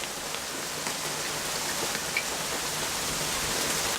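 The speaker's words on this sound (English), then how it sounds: "That's rain." Steady, dense rain falls throughout a thunderstorm in Eastbourne, a continuous even hiss of drops on surfaces that stays close and loud with no talking.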